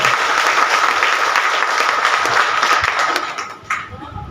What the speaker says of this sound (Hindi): सर है, इनके लिए भी जोरदार ताली